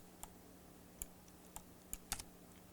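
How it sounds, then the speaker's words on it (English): Computer keys are pressed in sparse single taps and a quick double near the end, crisp quiet clicks over a faint steady hum with no talk. "let's press V on the keyboard to validate"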